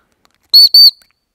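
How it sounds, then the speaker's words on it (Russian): Two short, shrill, high-pitched dog training whistle blasts in quick succession, loud and close, followed by silence. "есть свисток, которым я управляю собак"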